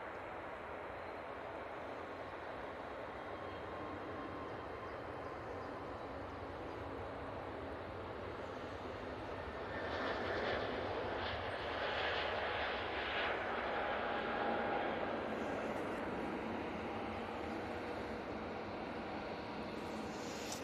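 An EasyJet Airbus A320neo taking off at Manchester Airport gives a distant, steady jet roar that swells partway through and then holds, with no voices over it.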